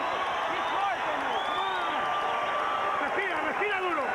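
Dense, steady roar of a boxing crowd at a Gillette Friday night fight, cheering and clapping continuously with whistles rising out of the noise, loud and sustained throughout.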